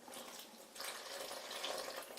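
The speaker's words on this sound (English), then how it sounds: "then we're going to add our lukewarm water" Lukewarm water is poured into a homemade pizza dough mix, a steady faint trickling stream that swells slightly after the first moment and continues without talk.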